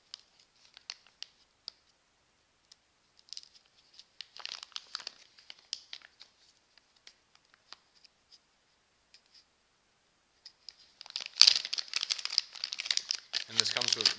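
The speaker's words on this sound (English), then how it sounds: "Battery comes in a Ziploc bag. And let's open this up." A plastic Ziploc bag holding a Milwaukee 12-volt lithium-ion battery is being handled and opened, giving sparse, faint crinkles that build into a louder burst of rustling near the end, with a person speaking at points.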